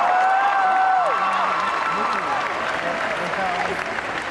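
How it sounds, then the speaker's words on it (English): Steady applause from an audience at an Anime Expo 2015 Sailor Moon panel fills the whole stretch, dense and even, with a voice trailing off at the start. "Let's give them all a big round of applause."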